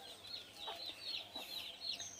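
Desi hens on a small backyard poultry farm cluck in short, soft bursts, a few scattered calls over a faint steady hum, fairly distant and quiet.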